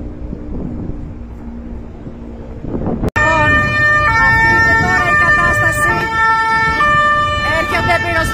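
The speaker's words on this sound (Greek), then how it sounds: "Έρχονται πυροσβεστικά" Fire engine sirens wail on a coastal avenue in Koropi near Athens during a large forest fire, starting faint and distant, then swelling loud with steady rising-and-falling tones over road rumble and wind.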